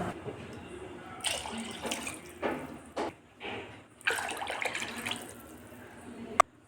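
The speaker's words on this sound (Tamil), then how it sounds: "நாங்கள் மூணு கிளாஸ் தண்ணி ஆட் பண்ணிக்கலாம்" Water poured in several bursts into a cooking pot, three glasses' worth for kodo millet sambar rice, splashing and gurgling in separate pours of a second or so each with brief pauses, close and moderately loud.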